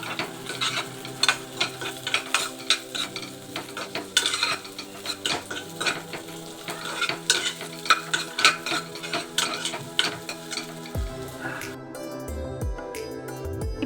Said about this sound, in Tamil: இப்போ இது ரெண்டுத்தையும் நல்லா வதக்கலாம்.